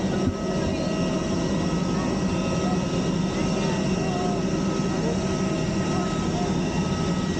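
Aircraft engines drone steadily and loudly while passengers climb the stairs to board a plane, a continuous roar with no breaks.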